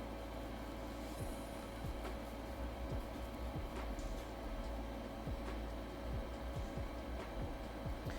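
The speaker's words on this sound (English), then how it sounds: "We're just gonna whisk a little bit at a time." A whisk stirs cornmeal into milk in a pot, making quick, regular scraping strokes against the metal close by, over a steady background hum.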